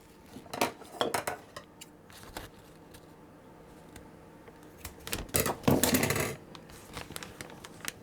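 Tomato filling spooned onto a Detroit-style deep pan pizza topped with mozzarella and cheddar: clustered clinks and scrapes of a spoon against a container come in two bursts separated by a quieter pause.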